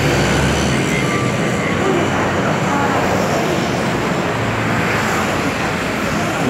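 A BTS Skytrain passing at Saphan Taksin station in Bangkok during rush hour, a steady loud rumble and rushing roar filling the whole stretch, with faint talk beneath.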